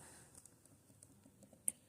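Faint, sparse keystrokes on a computer keyboard as entries are typed into Tally accounting software, quiet isolated taps with one slightly sharper click near the end.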